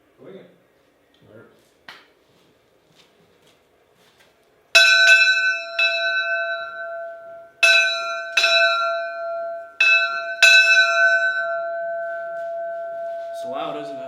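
A small bell is struck loudly several times, each ring a bright metallic tone with a long sustained decay. Faint handling sounds come first, and a voice speaks at the end.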